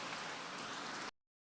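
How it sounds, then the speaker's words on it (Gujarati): Rain falls in the village of Revaniya as a close, even hiss for about a second before stopping abruptly into silence. "વરસાદ તો ચાલુ છે"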